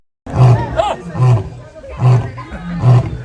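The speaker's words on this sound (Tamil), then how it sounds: "அங்க சிங்கம் கர்ஜிக்குதோ" An African lion at Entebbe Zoo in Uganda roars close and loud, with four deep, rhythmic grunting pulses evenly spaced about every 0.8 seconds, and some faint background sound between them.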